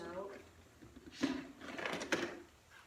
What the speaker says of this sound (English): let me just get all the drawers out